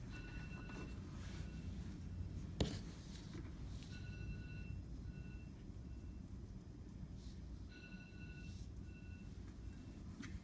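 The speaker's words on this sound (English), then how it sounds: "parking alarm telling her she needs to go change her parking ticket" A phone parking alarm beeps in short repeated bursts of thin tones, faint and indoors, with a low background hum.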